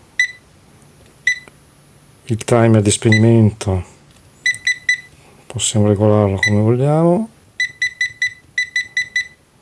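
Sharp electronic beeps from a multimeter with LCR meter as its menu is navigated, single short bleeps spaced apart and then a quick run of repeated beeps, clear and close, with someone talking between them.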